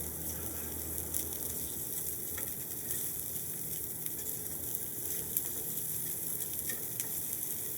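Salmon fillets sear in a hot pan, giving a steady, close sizzle that runs evenly throughout with a few faint scrapes and clicks, and no talking.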